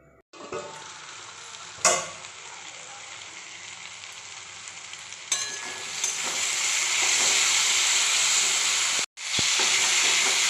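Onion frying in a pan gives a close sizzle that starts moderate with a sharp utensil knock, then swells into a loud, steady hiss. The hiss breaks off for a moment near the end.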